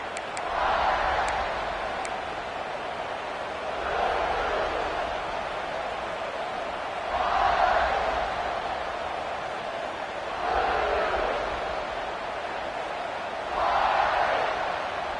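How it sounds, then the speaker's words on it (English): A college football video game stadium crowd, Indiana against Kentucky, buzzing after a score, with a steady roar that swells in broad waves every few seconds. "this crowd is buzzing after that last score"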